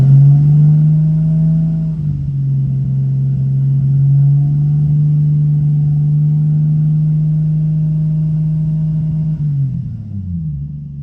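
A 1998 Nissan Skyline R34 25GT-T engine held at a steady elevated idle, a loud, smooth constant drone that shifts briefly near the start and drops away at the end.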